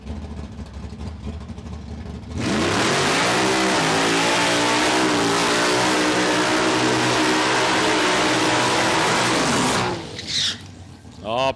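A nitro funny car at a drag strip revs hard for a burnout skid to heat its tyres, a loud sustained roar with shifting pitch that starts abruptly, holds for several seconds, then cuts off, with crowd noise and announcer talk around it.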